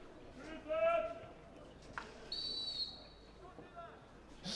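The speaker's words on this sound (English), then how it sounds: "Steiner peeping the whistle from the umpire." An umpire's whistle at a Netherlands versus Germany over-60 field hockey match gives a short, fairly faint peep under commentary, over a steady murmur of the match.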